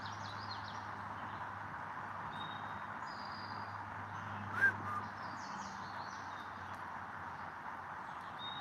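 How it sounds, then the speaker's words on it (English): Crows caw in a few scattered calls outdoors, mostly distant and faint, over a steady low hum and hiss, with one slightly louder sharp sound midway. "Yeah, birds are back."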